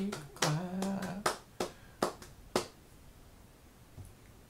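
A woman claps her hands in a varied rhythm, a handful of sharp, close slaps spaced unevenly, with soft humming or singing under the first claps before a quiet tail.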